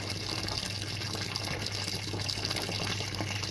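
Sparge water pouring steadily into a grain mash during homebrewing of a peanut butter milk stout, a constant close gushing rush of liquid with a low hum underneath and no talking.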